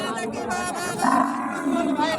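Cattle mooing at the Raniganj cattle market, a drawn-out low moo close by amid the noisy background of the market.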